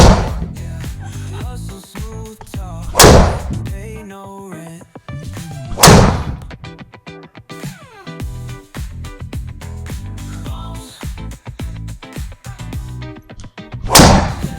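TaylorMade Stealth driver striking golf balls, three loud, sharp impacts spaced several seconds apart, each with a quick decay, over a quieter background of faint rustling and movement.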